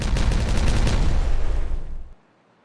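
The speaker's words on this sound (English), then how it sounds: "A nice explosion, indeed." A loud explosion in the beaver colony-building game Timberborn, a dense rumbling burst with crackling debris that rolls on for about two seconds before cutting off abruptly into silence.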